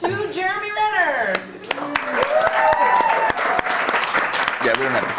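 Scattered, sparse claps from an audience at a film press event punctuate ongoing talk, with individual hand claps popping out irregularly beneath several voices rather than building into full applause.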